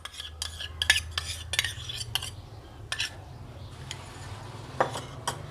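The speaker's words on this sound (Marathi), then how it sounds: "हे तूप थोडंसं फेटायचं।" Ghee being whisked in a bowl for an eggless cupcake batter, a utensil clinking and scraping against the bowl in irregular close taps over a low steady hum, with no one talking.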